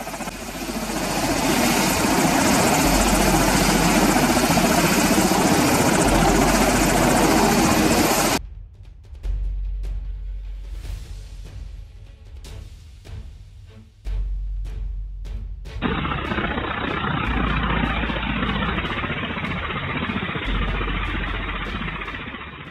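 A U.S. Army Black Hawk military helicopter roars loudly with steady rotor thumping for several seconds, drops away briefly to quieter clicks, then returns as a strong, continuous engine and rotor drone.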